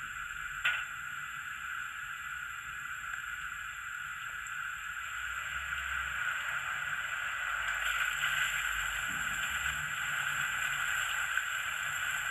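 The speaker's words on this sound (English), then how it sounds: "16, we've got filling the water tank up" OO gauge Metropolitan Railway E Class model locomotive sound effect of the water tank being filled, a steady hissing rush that runs throughout at even loudness, with no talk.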